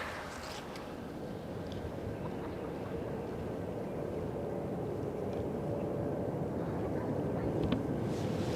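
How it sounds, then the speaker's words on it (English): KLM Boeing 777-300ER arriving on runway 18R at Amsterdam Schiphol, a steady roaring jet drone that swells gradually over several seconds, heard from a distance amid wind noise. "The next plane coming in is a 777 from KLM"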